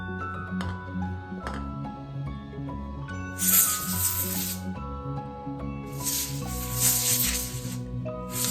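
A compressed air can sprays short hissing bursts around the nooks of a resin artwork, two loud blasts heard over steady background music.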